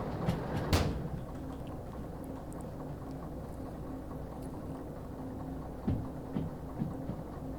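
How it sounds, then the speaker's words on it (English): A train cab door in the Derail Valley simulator slides and thuds shut near the start, followed by a steady low engine rumble and a few faint knocks later. "Let's get that door closed again."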